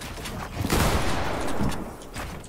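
Gunfire in a shooter video game: a burst of several rapid shots swelling to a loud cluster, then fading to scattered reports, moderately loud with no talking.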